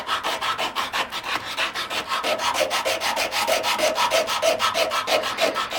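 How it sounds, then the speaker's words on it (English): Rhythmic back-and-forth rasp of sandpaper rubbing wood by hand, steady strokes repeating close up with no talking. "So we'll get to sanding that."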